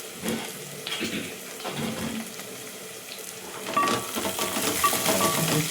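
Water runs and splashes steadily into a metal cooking pot, a continuous pouring sound that grows a little louder and brighter toward the end.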